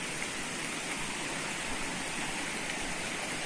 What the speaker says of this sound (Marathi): आता कंटिन्यू वाहत आहे पाणी